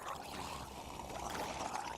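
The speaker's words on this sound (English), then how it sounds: "Let's get rid of our water." Water being cleared away in Minecraft, a steady flowing, pouring wash of game water that runs continuously at even loudness for the whole stretch, with no talking.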